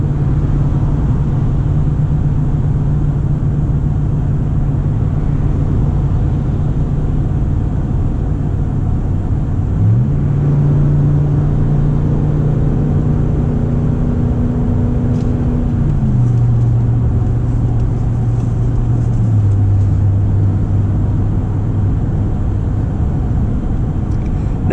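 A 2019 Ram 1500 Big Horn pickup with a 5.7L HEMI V8 tows a load at about 55 mph, giving a loud, steady engine drone whose pitch drops audibly with each of two gear changes.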